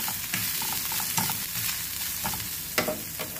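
Chicken salad with vegetables cooking over a high flame, a continuous close sizzle broken by spatula stirs and scrapes at an uneven rhythm, no talking.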